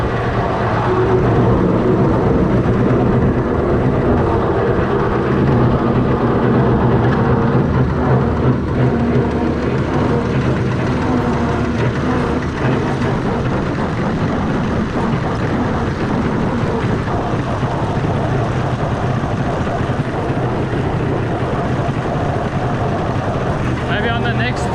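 A Fordson Major tractor fitted with a Perkins straight-six engine runs at a steady, loud, unbroken drone for the whole stretch, with wind buffeting the microphone.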